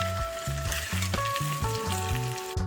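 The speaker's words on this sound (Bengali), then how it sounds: "দিয়ে দিচ্ছি কাজু কিশমিশ গোলমরিচের গুঁড়ো সামান্য চিনি নুন আর ভেজে রাখা ডিম আর চিকেনের কুচো দিয়ে আমি ভালো করে মিশিয়ে নিচ্ছি" Fried rice with cashews, raisins, egg and chicken being stir-fried, giving a steady sizzle with rhythmic spatula scrapes against the pan, close and continuous, with no talking.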